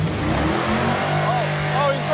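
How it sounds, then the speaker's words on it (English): A loud race car engine revving at a drag racing event, a steady, dense roar that stays close and strong throughout, with people talking over it. "It's a really loud car."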